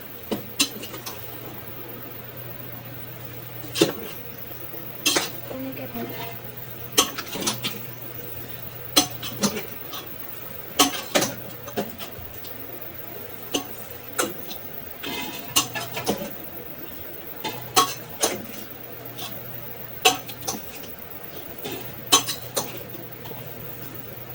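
Chicken dum biryani being mixed in a pot, heard as scattered clinks and scrapes of a metal spoon against the vessel at an irregular pace, close and fairly quiet, with no talk.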